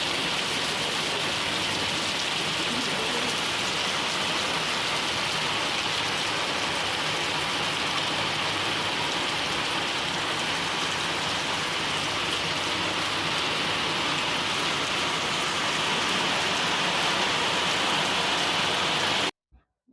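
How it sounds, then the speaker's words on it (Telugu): Afternoon rain falling steadily, a dense even patter on surfaces that holds at a moderate level for the whole stretch before cutting off abruptly at the very end. "మధ్యాహ్నం టైము వర్షం రానే వచ్చిందండి"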